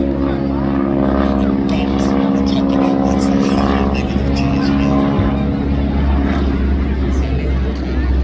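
Red Arrows display jets performing at the Blackpool Airshow, a loud continuous engine roar with a sustained low drone and shifting pitch as the aircraft pass, over a background of crowd babble.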